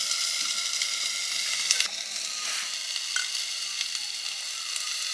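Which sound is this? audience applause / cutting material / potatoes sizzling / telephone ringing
potatoes sizzling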